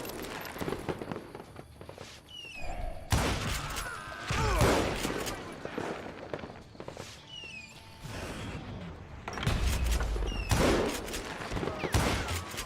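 Bursts of gunfire ring out in a Wild West shootout in Call of Juarez: Gunslinger, shots cracking close and loud in clusters amid footsteps and scattered voices across the exchange.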